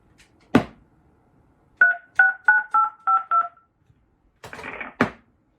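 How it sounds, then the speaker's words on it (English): A short burst of touch-tone dialing beeps played through an Atlas Sound AA200PHD amplifier, several evenly spaced tones in a quick run, bracketed by clicks and a brief rushing noise, loud and close. "So let's do a dial tone, because I'm sure you guys want to hear a dial tone."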